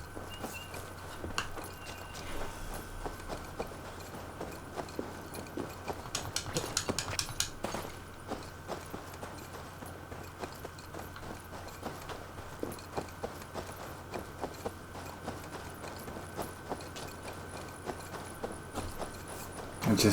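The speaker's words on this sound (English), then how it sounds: "Ya está, y hay un caballo." Horse hooves clip-clop steadily in Assassin's Creed Valhalla, a quiet, continuous run of hoofbeats over a low game ambience with no talking.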